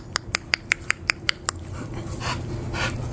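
An American Bully dog named Chopper gives a rapid series of about eight sharp, evenly spaced short sounds, followed by soft breathy snuffling close by.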